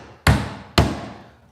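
A Vaughan 20-ounce all-steel claw hammer drives nails with two loud, sharp strikes about half a second apart, each ringing briefly and decaying, close up with no talking.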